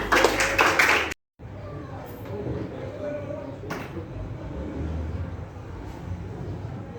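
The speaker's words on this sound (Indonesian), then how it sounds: "Tepuk tangan guys" A classroom group briefly claps hands, a burst of loud clapping lasting about a second that cuts off abruptly, followed by quiet room noise with a couple of faint taps.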